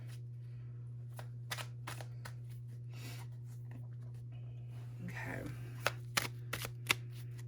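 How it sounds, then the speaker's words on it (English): Quick papery shuffling of tarot cards nearby, a string of soft flicks and snaps over a steady low hum, ending in a few sharper taps. "Just shuffling really quickly here."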